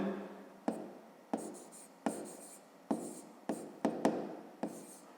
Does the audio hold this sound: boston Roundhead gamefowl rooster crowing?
no